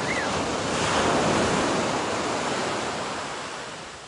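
Soft sea waves at a beach in Bicol, Philippines, wash in a steady broadband hiss, swelling slightly then easing off, with a gentle breeze; no voices.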